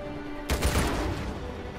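A sudden burst of gunfire in the video game Uncharted 4: A Thief's End erupts after a quiet moment, followed by a lingering rumbling echo.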